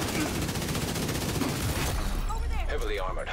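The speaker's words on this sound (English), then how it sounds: "I just started shooting towards it" Rapid bursts of gunfire from a video game shooter, dense and continuous for the first two seconds before thinning out under game effects and a voice.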